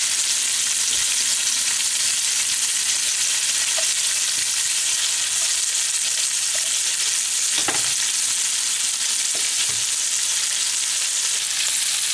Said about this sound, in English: we will saute 2 cups of sliced mushrooms, and this will be done in clarified butter.